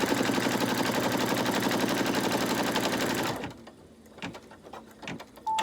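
An embroidery machine stitching a lace zipper pouch hums and clatters rapidly and steadily for about three seconds, then stops abruptly, leaving quieter handling clicks and taps.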